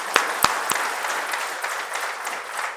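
Applause from an audience at a company rededication ceremony, a few sharp claps up front and then steady, moderately loud clapping that continues on its own to the end.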